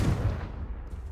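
The Confringo blasting spell in Hogwarts Legacy bursts with one sharp, booming explosive blast that quickly rumbles away.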